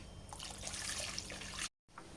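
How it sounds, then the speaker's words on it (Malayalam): Coconut milk poured into a fish curry, a soft continuous liquid splashing and trickling for under two seconds before a brief silence. "ഇനി നമുക്ക് ബാക്കിയുള്ള പാലും കൂടി ഒഴിച്ചു കൊടുക്കുക"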